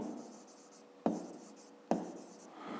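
A pen scratches out numbers by hand on paper during a fifth-grade maths exercise, soft continuous strokes broken by two sharp taps as the pen lands, close and with no talking.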